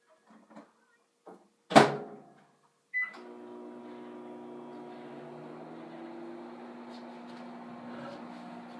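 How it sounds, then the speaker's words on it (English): A microwave oven is started with a few clicks and a door clunk, then a steady, even hum runs on without pause at close range. "I put it in the microwave and turned it on"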